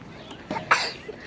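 A single short sneeze-like burst comes at a lakeside picnic area, sharp and close against faint outdoor background noise.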